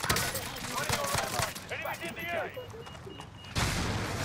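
Rapid bursts of gunfire from a heavy-recoil weapon in a video game, dense and loud through the first half and again at the end, with players talking over the shots.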